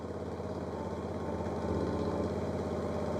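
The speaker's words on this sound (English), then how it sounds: "I'm going to use the boom functions instead of the driving" An Equipter 7000 running its boom hydraulics, a steady mid-pitched engine drone with a hydraulic hum, constant and fairly close, no talking.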